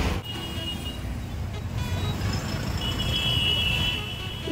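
Steady road traffic noise from stuck vehicles, with an engine rumble and a few high horn-like tones drifting through at moderate distance.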